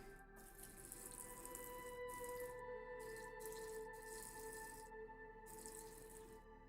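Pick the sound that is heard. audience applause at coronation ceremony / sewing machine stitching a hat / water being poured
water being poured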